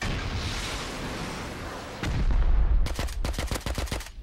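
Suppressed AK rifle fire in the survival game Rust, heard at night from a hillside: a rumbling stretch of low booms, then a rapid burst of sharp, closely spaced shots that crackle loudly in quick succession.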